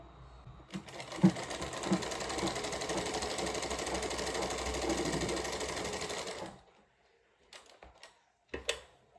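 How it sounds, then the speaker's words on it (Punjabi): A sewing machine runs steadily for about six seconds, stitching the curved seam of a palazzo, then stops abruptly, leaving a few faint handling clicks and taps alone afterward. "ਹੁਣ ਦੇਖੋ ਮੈਂ ਗੁਲਾਈ ਵਿੱਚ ਹੀ ਸਲਾਈ ਲਗਾਉਂਗੀ ਇਹਦੀ"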